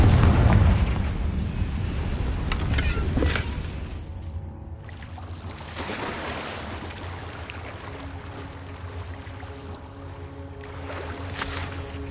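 Fire spell explosions in the Hogwarts Legacy game erupt as deep booming blasts, loud at first and then settling into a rumbling, crackling wash with a few sharper bursts and no voices.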